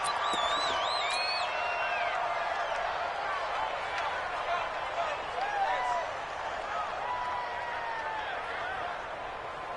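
A stadium crowd at an NFL football game between the Los Angeles Chargers and the Dallas Cowboys roars steadily, with whistles and scattered shouts rising over a constant wash of voices.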